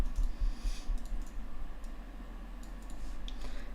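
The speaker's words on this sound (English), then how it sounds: "Let me type that in." Keyboard typing as a forex trade order is entered on a computer, a steady run of soft, close clicks and taps over faint room hum, with no talking.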